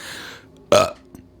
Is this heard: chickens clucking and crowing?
no